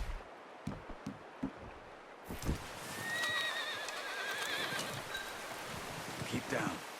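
In the video game Red Dead Redemption 2, hooves clip-clop at a walk, then a horse lets out a loud, drawn-out whinny nearby, followed by more hoofbeats.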